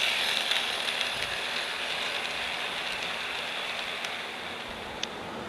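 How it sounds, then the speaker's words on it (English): An N scale model freight train runs along a layout built on insulated foam board, producing a steady, faint rolling rumble with light clicking and rattling throughout and no voices. "we're going to basically see a freight train kind of coming through, out of the tunnel"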